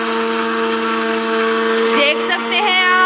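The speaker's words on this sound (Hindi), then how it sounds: "अब हमने इसको मिक्सर को ऑन कर देना है।" A kitchen mixer blending homemade mayonnaise runs steadily at high speed, a loud continuous whine with a slight pitch wobble near the end.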